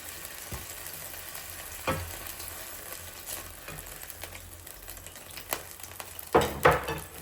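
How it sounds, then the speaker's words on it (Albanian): Chicken breast fillets fry quietly in a pan with a soft, continuous crackle, broken by a few sharp utensil scrapes and clatters, the loudest cluster near the end. "Është skuqur gjoksi i pulës nga të dy anët, tash e largojna nga tigani."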